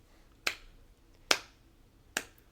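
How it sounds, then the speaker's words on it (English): A slow clap breaks a silence: three sharp, isolated claps spaced evenly almost a second apart, each crisp and close with quiet between them. "there's a silence that hangs in the air until it's broken by the sound of a slow clap."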